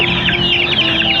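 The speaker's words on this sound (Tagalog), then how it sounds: "Kukulit na mga manok na ito." Many farm chickens cluck and chatter loudly up close at feeding time, a dense overlapping flock sound with a steady hum underneath.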